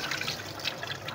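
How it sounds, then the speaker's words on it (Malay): Rinse water poured out of a pot while washing rice, a steady close trickling and splashing stream running without pause. "Buang airnya."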